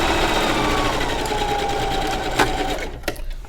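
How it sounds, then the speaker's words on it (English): A sewing machine stitches a seam on a lined pouch bag in a steady, continuous run, close and loud, then stops with a few small clicks near the end. "And you're going to continue sewing"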